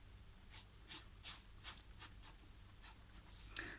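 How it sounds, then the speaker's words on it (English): Parker Vector pen sketching lightly on paper, a series of soft scratchy strokes in an irregular rhythm, quiet and close, ending with a sharper tap. "I've got my Parker vector pen, and I'm just going to do some light sketching"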